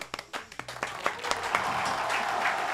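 Applause breaking out during a live Argentine stream, a burst of scattered hand claps that quickly thickens into steady, dense clapping filling the rest of the moment.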